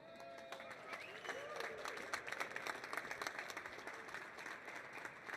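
An audience at a live stage session of the NADA Show 2026 claps and cheers as panelists walk on, a steady, dense wash of applause that swells and holds for several seconds.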